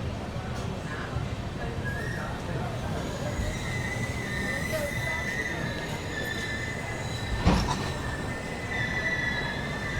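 Express train arriving at Gudivada Junction, a constant rolling rumble under high, sustained wheel squeals, with a brief loud clank near the end.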